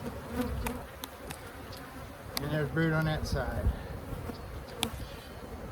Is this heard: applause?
no